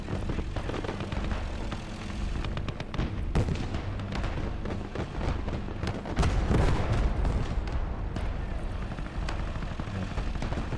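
Artillery fire rumbles continuously in Call to Arms: Gates of Hell, a World War II battle between Soviet and German forces, with heavy booms, dense rolling explosions and crackling small-arms fire, loud and unbroken, and no voices over it.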